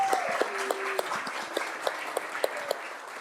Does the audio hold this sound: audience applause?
yes